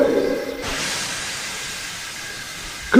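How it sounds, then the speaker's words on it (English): An animated steam locomotive waiting in a railway tunnel blows off steam in a loud, steady hiss that starts abruptly, holds for over two seconds, then gives way to a brief tonal sound at the end. "Henry stayed in the tunnel and blew steam at him."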